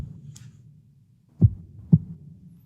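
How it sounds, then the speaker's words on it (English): A slow heartbeat game sound effect: one deep low thump, then a second shortly after, close and muffled over a faint low hum. "We've got a slow heartbeat if you want to build a health system."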